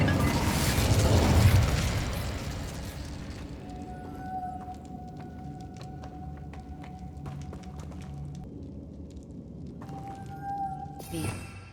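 A fiery burst opens from the Incendio spell in Hogwarts Legacy, a loud whooshing blaze in the first seconds that fades into quieter magical hums and tones, with a brief sharp crackle near the end.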